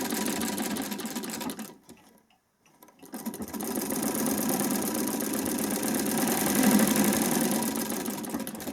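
A vintage Singer treadle sewing machine stitching with a Swiss zig zag attachment, a fast, even mechanical chatter close by that pauses briefly, then resumes and runs steadily to the end.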